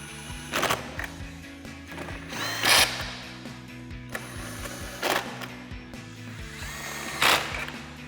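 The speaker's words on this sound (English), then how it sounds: "Now we're going to take our 10mm socket and run these in." A ratchet with a 10mm socket runs small nuts down onto the mirror studs of a 2011-2016 Ford F-250 towing mirror. Four separate quick bursts of close clicking stand out over a steady low hum.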